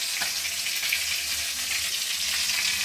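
Fish and potatoes frying in a pan, a constant bright sizzle with faint stirring scrapes, close and steady throughout with no talking.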